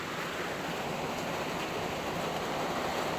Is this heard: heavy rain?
yes